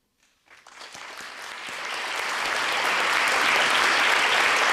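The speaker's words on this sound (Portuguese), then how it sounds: "Forte aplauso, então, que se ouve no auditório" Applause from a large crowd starts with a few claps, then swells into loud, sustained clapping that fills an indoor auditorium at a papal audience.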